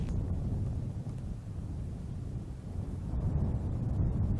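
Wind roars across a high mountain summit, a steady, low, rumbling buffeting on the microphone that swells slightly toward the end, with no voices.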